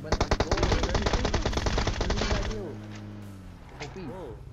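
Rapid automatic gunfire from the video game PUBG, a dense loud burst of shots for about two seconds, then a fading tail with lighter distant sounds and a voice briefly talking.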